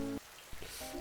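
Steady rain falls with a dense, even hiss of drops on surfaces, brief and close, partly overlaid by short tonal background sounds.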